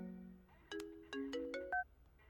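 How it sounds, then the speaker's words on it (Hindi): Mobile phone ringtone in a Hindi-dubbed action film scene, a short bright melodic chime of several quick tones, clear and alone against a quiet background. "सर, आपका फोन।"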